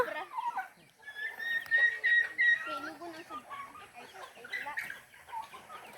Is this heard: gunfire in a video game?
no